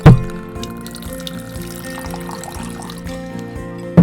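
Water poured from a practice liquor bottle for a measured 1.5 ounce pour at a home bartending setup, a steady continuous trickle running the whole stretch with a soft clink at the start and end.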